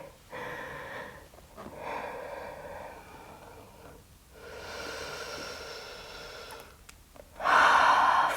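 Deep, slow breathing during a yoga pose, with steady inhales and exhales audible alone and a louder, forceful breath near the end.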